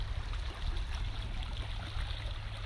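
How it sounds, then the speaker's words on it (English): Water of West Plum Creek flowing along a steep-banked sandy creek bed, a steady, fairly faint rushing with no voices. "Looking upstream on West Plum Creek, we've got a pretty steep cut down to the creek bed."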